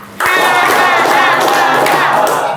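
A classroom of students claps hands together five times in a quick burst, the dense clapping close and loud with no talking over it.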